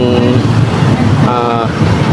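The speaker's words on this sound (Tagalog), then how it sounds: "medyo maingay yung kanyang makina, parang may kumakatok" A Bajaj Rouser 135 motorcycle engine with a loose piston that knocks in its bore runs steadily up close, a continuous mechanical drone with a voice talking over it.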